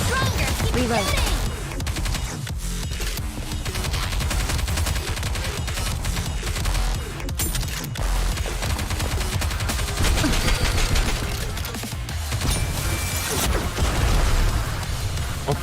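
Continuous rapid gunfire from the video game Nikke, dense overlapping bursts and shots running loud and unbroken throughout, with occasional game voices mixed in underneath.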